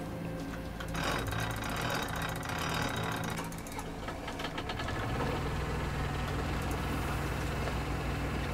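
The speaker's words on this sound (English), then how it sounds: "let's back up the car just a little bit more" Car engine idling and revving in reverse in the video game The Vanishing of Ethan Carter Redux, a steady mechanical drone with ticking and knocking that shifts to a lower, smoother hum partway through, loud and close.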